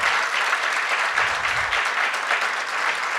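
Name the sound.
audience applause for candidates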